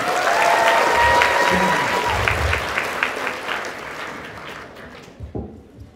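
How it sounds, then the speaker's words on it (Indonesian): An audience at a university public lecture breaks into loud applause that swells, then thins out over several seconds, with scattered claps and a few voices near the end. "Kita berikan tepuk tangan semuanya"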